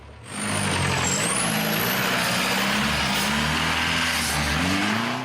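A military vehicle driven by soldiers roars past nearby, its engine loud and steady with rising and falling pitch as it accelerates, filling the whole stretch.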